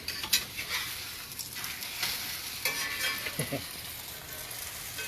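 A French toast-style omelet sizzles in a pan after being flipped, a soft steady frying hiss with occasional spatula scrapes and small utensil clicks, fairly quiet and close, with no voices.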